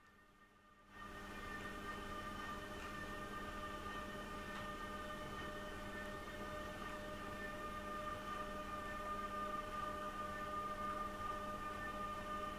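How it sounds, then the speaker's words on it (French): An HO scale model train hauling grain wagons runs steadily on the layout, a continuous mechanical hum and whine with faint rail clatter, steady and fairly quiet, with no voices. "J'ai même vu des circulations réelles avec peu de wagons, comme cette rame."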